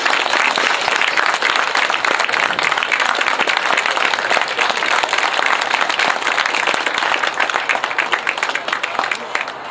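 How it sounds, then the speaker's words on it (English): A crowd of football spectators gives sustained loud applause at a Remembrance Cup Final trophy presentation, dense clapping holding steady for nearly ten seconds before easing slightly at the end. "I'd like to give a good round of applause"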